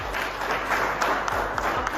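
Seminar audience clapping for themselves at a network marketing talk, a brief round of steady, fairly close applause with a few sharper individual claps standing out.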